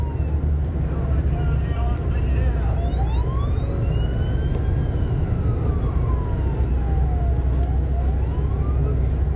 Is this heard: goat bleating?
no